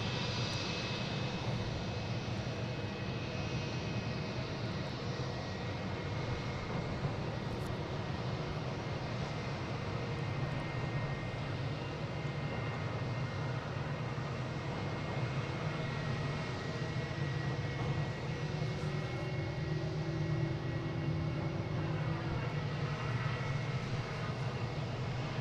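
An American Airlines airliner arriving from Cincinnati at Boston Logan rumbles steadily at moderate distance, a continuous low engine drone with a faint whine, unbroken and without talk.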